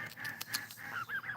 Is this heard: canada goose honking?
yes